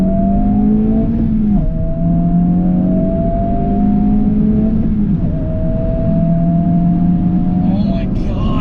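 A Honda Civic Type R pulls hard through the gears on a test drive, its loud engine drone rising in pitch with each run, dipping briefly at the shifts, and heard from inside the car.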